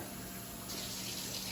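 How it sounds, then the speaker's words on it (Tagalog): Water runs steadily from a tap in a continuous hiss, growing slightly brighter partway through, with no voices. "Siyempre, tubig po natin"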